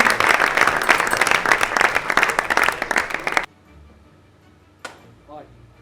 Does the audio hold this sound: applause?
yes